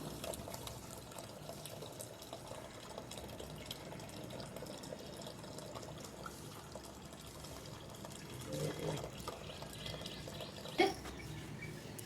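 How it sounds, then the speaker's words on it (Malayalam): Water is poured onto potted plants indoors during a home cleaning routine, a faint, steady trickle and splash, with a slightly louder spatter near the end and a brief sharp knock. "പിന്നെ ഇത് ചെടിക്ക് കുറച്ച് വെള്ളം ഒഴിക്കാനുണ്ട്"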